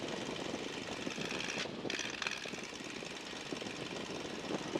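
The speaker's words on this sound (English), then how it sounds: "engine's fine. We're gonna let it warm up a little bit more, and you can bring the power back to idle." A 1942 Boeing Stearman biplane's radial engine runs steadily during a magneto check. A loud, continuous propeller and engine roar fills the cockpit, with a brief dip in tone as one magneto is switched.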